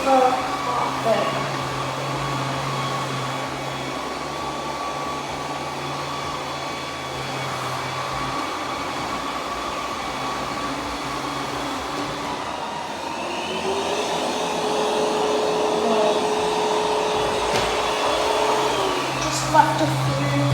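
Roborock Q10V+ robot vacuum running across carpet, a steady whirring motor hum with brush and suction noise throughout, fairly close, with a slight shift in tone partway as it moves onto the pile.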